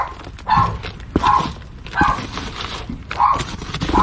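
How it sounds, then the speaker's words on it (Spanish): A neighbor's small dog barks at a cat, sharp single barks repeated in a loose rhythm about once a second, close and clear with no talking. "Siempre le anda ladrando al gato."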